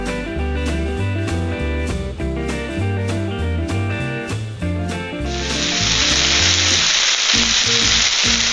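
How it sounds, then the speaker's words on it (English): Tri-tip roast searing in olive oil in a hot cast iron skillet: a loud, steady sizzle swells in partway through and continues to the end over background music. "heat up a cast iron skillet on high, put some olive oil in there, and get it nice and seared up"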